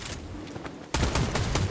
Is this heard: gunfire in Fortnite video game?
yes